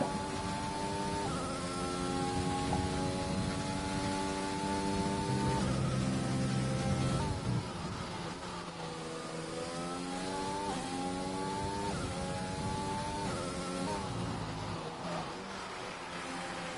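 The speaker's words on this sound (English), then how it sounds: "now have the racing point of Fretti coming out and starting his last lap in qualifying" Racing Point Formula 1 car engine screaming through a qualifying lap in a racing video game at the Spanish circuit, steady high-pitched harmonic whine rising and falling with gear shifts and throttle, loud and continuous with no voices.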